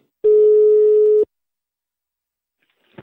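A single steady telephone tone rings for about a second during a prank call as a number is dialed, loud and close, followed by silence and a brief faint voice at the end.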